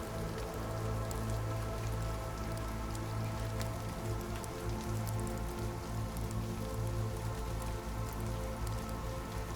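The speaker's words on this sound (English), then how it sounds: "Imagine gentle raindrops falling softly on leaves, washing away the echoes of history's struggles." Gentle rain falls steadily on leaves, an even, unbroken patter and hiss of soft drops with a low steady hum beneath, no voices.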